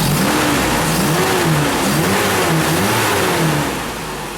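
A Toyota 22RE engine with a newly installed camshaft runs steadily at idle, a smooth low rumble with a gentle wavering tone, loud and close, easing off slightly at the end.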